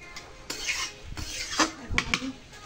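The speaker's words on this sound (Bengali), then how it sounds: "এখন আমি কষিয়ে নেব।" A metal spoon scraping and stirring curry in a cooking pot, a few irregular clanks and rasping strokes at close range, fairly quiet with little else in the background.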